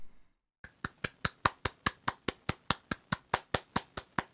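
A single person claps steadily about twenty times in an even rhythm, each clap sharp and close, starting after a short silence.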